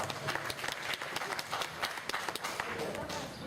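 An outdoor Sabantuy festival audience applauds with a steady patter of many hands clapping throughout, with voices mixed in.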